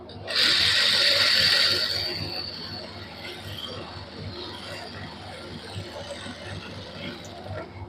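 A sewing machine runs in a steady rattling rhythm while stitching lace onto a salwar hem, with a brief louder mechanical whirr at the start, then continuous close ticking stitches.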